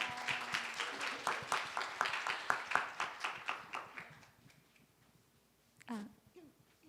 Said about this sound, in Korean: 나오실 때 박수 한번 부탁드릴까요?